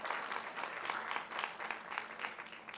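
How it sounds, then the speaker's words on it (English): An audience at a school board of education meeting gives a round of applause, a full room of clapping with some individual claps standing out in a loose rhythm, continuous for a few seconds. "Give him a round of applause."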